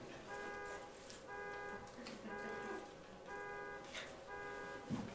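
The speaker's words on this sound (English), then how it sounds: "Somebody's car's honking." A car horn sounds in repeated honks nearby, five separate toots in a steady rhythm with short gaps, moderately faint, over a quiet room.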